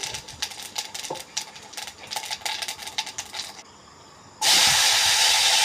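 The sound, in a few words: whole cumin seeds sizzling in hot oil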